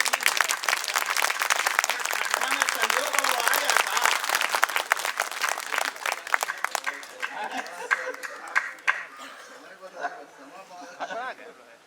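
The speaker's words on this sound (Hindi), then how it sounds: "ताली बजाइए।" An audience at a public stage event applauds in dense, sustained clapping that gradually thins and fades over about twelve seconds, with light crowd murmur beneath.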